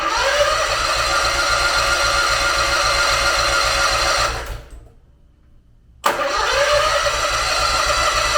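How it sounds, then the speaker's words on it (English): A Honda GX620 10 kW generator engine cranks on choke without starting; a loud, close, rhythmic starter churn runs for about four seconds, fades out into silence, then resumes abruptly. "I'm going to try the first start. I'm going to give it some choke"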